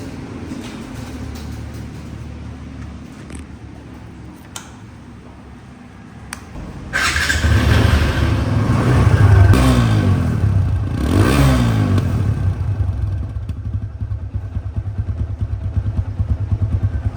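A TVS Apache RTR 160 2V motorcycle engine idles softly at first, then picks up to a louder, steady running hum with a few rev swells, heard up close with no talking.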